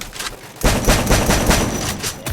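Rapid gunfire in the mobile shooter game Free Fire during a ranked match, a sustained loud burst of automatic shots starting abruptly after a quieter moment and continuing steadily to the end.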